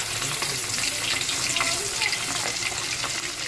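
Pabda fish fries in hot oil in a wok, giving a broad steady hiss and crackle that sounds close and continuous, without speech.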